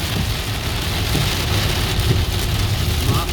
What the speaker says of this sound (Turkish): Duyuyorsunuz yağmurun sesini.